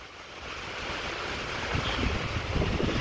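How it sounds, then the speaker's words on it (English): Steady outdoor wind rushes and buffets the microphone throughout, building slightly toward the end, with no voices. "nice wind coming up behind me"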